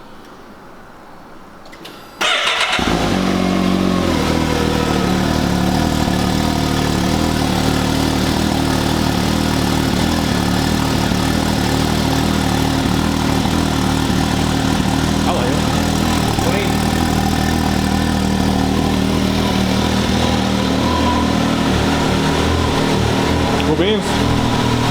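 Can-Am 120X3 side-by-side with a big bolt-on turbocharger cold-starting after a short silence, then a loud, steady engine idle close by with occasional revs and people talking over it.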